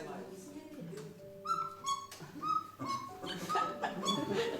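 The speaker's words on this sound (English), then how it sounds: "The sound is quite easy to imitate with these whistles." Several short two-note cuckoo whistle calls from cuckoo clock whistles, tonal and breathy, repeated at irregular intervals with quiet background noise between them.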